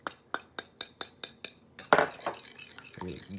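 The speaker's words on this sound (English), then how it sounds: "Whisk this up." A whisk beats eggs with chives in a bowl, first as about seven evenly spaced sharp clinks against the rim, then as a faster, busier rattling scrape close up.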